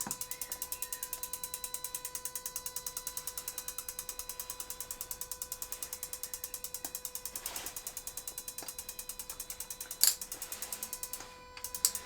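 An idling Mini Cooper S R53 supercharged engine ticks in a fast, even rhythm, faint and steady, with one sharper click near the end.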